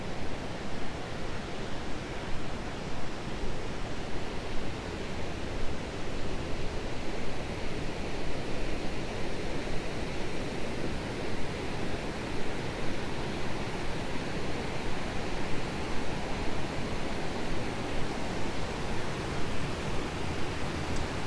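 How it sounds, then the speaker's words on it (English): Rushing creek water beside Illick Mill in Monocacy Park, Bethlehem, Pennsylvania, a steady, dense broadband roar that stays loud and unbroken throughout with no voices. "Going to get louder as we get closer because the water is really rushing."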